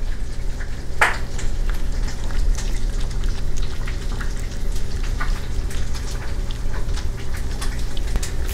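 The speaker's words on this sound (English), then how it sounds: "now that butter's browning" Butter browning in a hot frying pan gives a steady, close crackling sizzle with scattered spits and pops, continuous throughout with no talking.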